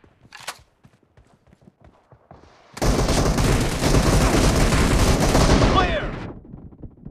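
Gunfire from the mobile battle game BGMI in team deathmatch: scattered sharp shots at first, then a loud sustained burst of rapid automatic fire lasting a few seconds before it tapers off.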